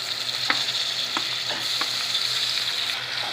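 Tomatoes, ginger and garlic frying in a pan for black chickpea chaat, with a steady close sizzle and a few soft stirring knocks throughout.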